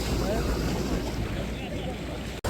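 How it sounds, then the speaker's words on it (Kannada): A fishing boat moving on the Sharavathi backwater near a mangrove boardwalk, its low engine rumble steady and distant under wind buffeting the microphone and lapping water, with a brief dropout near the end. "ಮೀನು ಹಿಡಿಯುವರ ಬೋಟ್ ಹೋಗ್ತಾ ಉಂಟು ಇಲ್ಲಿ."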